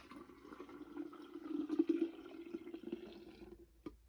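Hot water is poured onto instant coffee for dyeing paper, a steady close liquid stream with a rising fill tone that fades out near the end.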